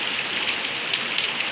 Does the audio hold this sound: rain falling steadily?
yes